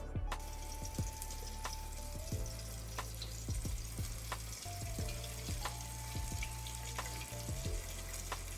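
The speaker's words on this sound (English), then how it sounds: "you can see how it's starting to fry up real nice" Continuous crackling sizzle of flour-coated ribs frying in hot oil, close up, with sharp pops and spits scattered throughout and no talking.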